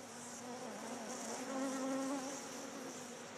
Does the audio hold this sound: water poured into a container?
no